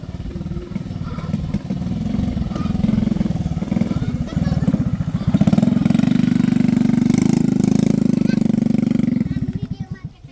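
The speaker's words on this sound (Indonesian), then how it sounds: "Nah ini motor off-roadnya ya." An off-road motorcycle used for hauling building materials runs steadily close by, a loud continuous engine rumble that swells in the middle before easing off at the end, with a voice talking over it.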